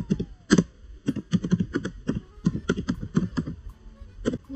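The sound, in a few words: typing Ctrl X and Enter on a computer keyboard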